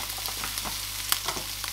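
Bacon sizzling in a pan with melted butter, a steady close frying hiss broken by small crackles and pops, alone with no talking.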